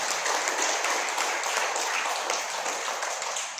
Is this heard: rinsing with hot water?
no